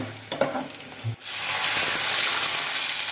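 Chillies frying in a hot pan for upma, a loud, steady sizzle that bursts in suddenly after a second of quiet clatter and holds on, close up.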